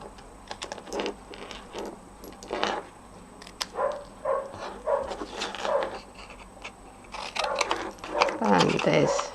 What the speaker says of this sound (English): there's my neighbour's dog has something to say